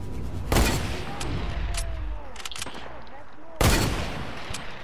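Gunfire in Fortnite: two loud, sharp blasts stand out against scattered lighter shots and a busy game background, with a voice talking over it.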